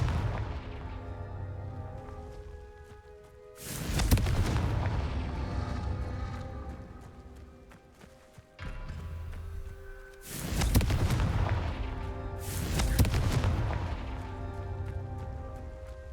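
Confringo fire-blast spells cast in Hogwarts Legacy, heard as three loud, booming bursts, each with a sharp onset and a rumbling decay, spaced several seconds apart over steady game ambience.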